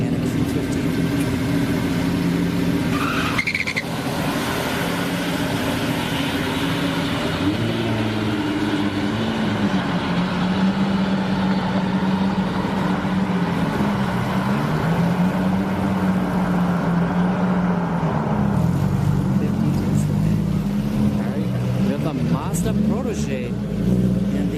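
Drag racing cars, a C350 and a Q50, at Orlando Speedworld, engines droning and revving at a distance under an announcer's continuous commentary.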